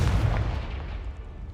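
A fire-spell explosion from the Hogwarts Legacy video game: a single loud, deep boom that bursts at the start and then rumbles away over about a second and a half, with no talk.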